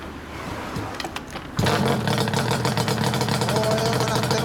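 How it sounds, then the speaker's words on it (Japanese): A 1993 Yamaha R1-Z two-stroke motorcycle fitted with a D+Racing chamber exhaust starts up partway through and then idles loudly and steadily close by, with a buzzing two-stroke rattle. "オッケー、あのエンジン音聞かせてもらえるかな。"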